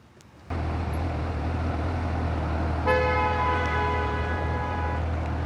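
A car horn honks in a long steady blast that cuts in over a constant roar of Houston traffic and wind, heard from a motorcycle on the road, loud and close.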